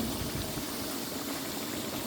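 Water pours steadily into a biryani cooking pot, a continuous rushing splash at moderate volume for about two seconds, with no voices.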